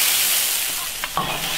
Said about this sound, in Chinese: 豆腐下锅